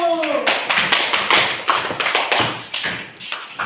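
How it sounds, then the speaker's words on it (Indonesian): Classroom students clapping hands in a burst of quick, uneven claps following a teacher's voice, with scattered talk mixed in over a few seconds. "Tepuk tangan dulu."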